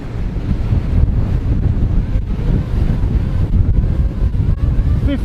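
Strong wind buffets the microphone on the deck of a Trader 535 Sunliner motor yacht underway at sea. The roar is loud and continuous, with gusty low rumbling and a wash of waves behind it, and no talk.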